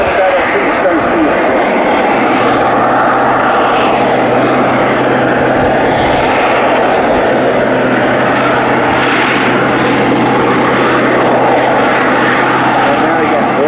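A propeller aircraft's engine roars loud and steady throughout an aerobatic display at the Bournemouth Air Festival, with a constant droning hum and slight swells in pitch, under wind noise and no clear talk.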